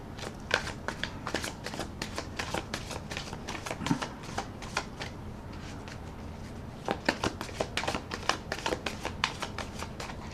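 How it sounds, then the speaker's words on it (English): Tarot cards being riffle-shuffled in quick bursts of crisp clicks, two main runs separated by a brief pause, close and fairly quiet. "I'm going to shuffle the cards."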